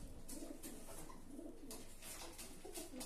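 Pigeons cooing in a loft, soft repeated low coos overlapping steadily through the whole stretch with brief rustling and faint chirps, close and continuous, no talking.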